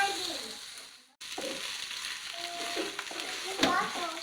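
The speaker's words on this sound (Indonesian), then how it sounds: "kita aduk-aduk terlebih dahulu" A bread and milk batter for fried gabin is stirred in a bowl, with soft wet scraping and sloshing that pauses briefly and then resumes with faint clinks, quiet and close.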